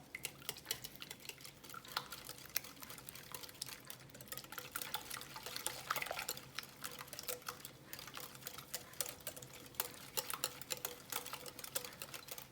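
Cheese, salt and other keto lasagna ingredients are mixed in a bowl, giving faint, steady clinks and scrapes of a utensil against the bowl in a quiet kitchen.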